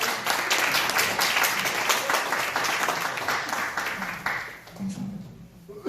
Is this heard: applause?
yes